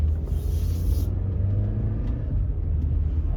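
Car pulling away in first gear at a dealer-only auto auction, a steady low engine rumble heard from inside the cabin, close and even throughout with no talk.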